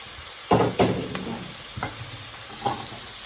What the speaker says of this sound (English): you don't want to like stir it around too much because that's going to start making it steam instead of just saute